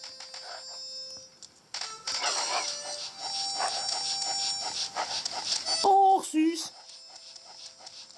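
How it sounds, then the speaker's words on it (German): A giant dog mount pants in the Pokémon Sun video game, with soft breathy panting under game music and chimes, while a person talks over it. "Ich reite hier auf meinem Riesenhund."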